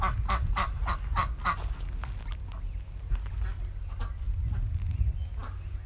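Several Canada geese honk in a quick series of loud calls, then scattered quieter honks continue over a low rumbling outdoor background.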